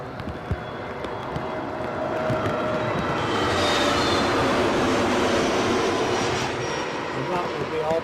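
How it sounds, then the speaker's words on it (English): An easyJet Airbus A320 arriving from Belfast on final approach to Newcastle airport: a broad jet roar swells steadily, peaks around the middle as it passes fairly close, then eases off slowly. "that will be our easyJet from Belfast, A320"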